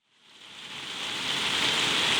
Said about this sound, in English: If it keeps raining this much, the river will be very murky